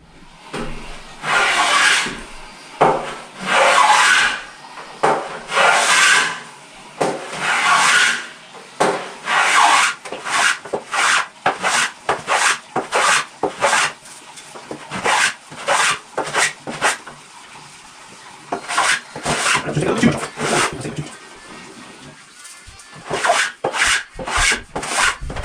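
Hand rasp stroking along the edge of a wooden board to shape a bullnose, rhythmic bursts of coarse scraping in steady runs with brief pauses between strokes, close and fairly loud, no talk.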